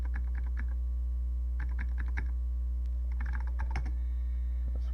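Someone types on the keyboard of a Tandy Model 200 portable computer, a vintage machine with keyboard switch trouble: bursts of quick, clicky keystrokes in three clusters over a steady low hum, close and distinct.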